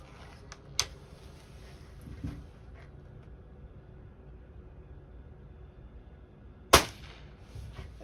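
A 19-year-old Crosman 800X Quest spring-piston air rifle fires once with a sharp, loud crack, followed by a smaller earlier click and faint background hum in otherwise quiet surroundings.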